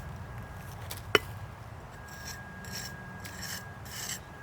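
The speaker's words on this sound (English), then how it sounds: "I'll just rub this bit up" A jointing tool rubbing up a mortar joint in brickwork during pointing: quiet repeated raspy scraping strokes, close and faint, with one sharp tap partway through and no talking.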